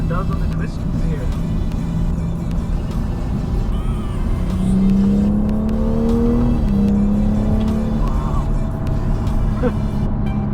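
A 2018 BMW M240i xDrive engine with an 8-speed automatic drones steadily from inside the cabin on a winding road, rising in pitch as it accelerates and then dropping briefly at a gear change before climbing again.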